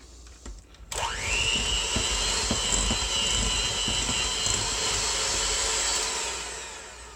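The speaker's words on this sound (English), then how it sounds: "Start with 1 cup of butter and you have to start whipping it." An electric mixer whipping a cup of butter for banana bread starts with a sudden switch-on, then runs as a steady loud whine and whir for several seconds without talk.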